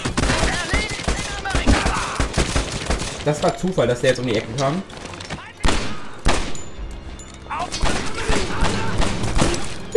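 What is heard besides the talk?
machine gun fire in video game Medal of Honor Airborne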